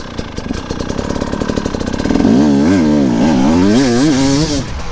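An enduro motorbike engine putters in rapid firing pulses, then revs up and down in second gear with rising and falling whines, loud and close, with no speech.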